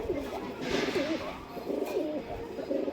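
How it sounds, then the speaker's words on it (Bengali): Malbahi breed pigeons coo in a few low, throaty bursts close by, with one longer coo early and another near the end, over a faint background hiss. "মালবাহী পায়রা, ব্রিডিং পেয়ার দাদার সব সেল আছে"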